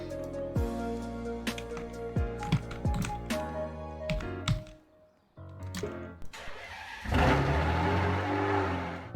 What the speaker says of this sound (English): now let's try out the normal Ferrari Enzo